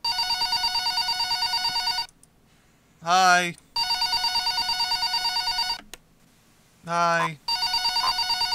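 A telephone in Mily's Nights 4 rings loudly in long repeated bursts, broken by pauses and a rising voice sound from the game, with a short spoken word in between.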